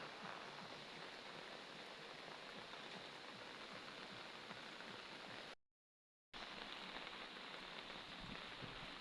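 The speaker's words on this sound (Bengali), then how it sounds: "বৃষ্টি হচ্ছে প্রচুর, বৃষ্টির মধ্যেই যাচ্ছি" Heavy rain pours on an old British-era railway bridge over a river, a dense, constant roar of falling water that stops abruptly for a moment and then resumes at full strength.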